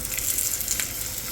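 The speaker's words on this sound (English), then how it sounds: "Okay, these veggies seem to be searing up well." Vegetables and garlic sear in a hot frying pan for a soup, giving a steady, close, bright sizzle with a faint crackle throughout and no voices.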